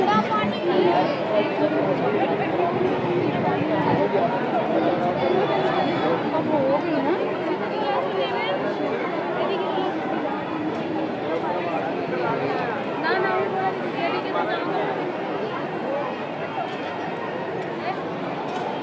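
Dense crowd chatter from pilgrims gathered to bathe at Har Ki Pauri ghat in Haridwar, a steady, loud wash of many overlapping voices with no pauses, with one voice speaking over it.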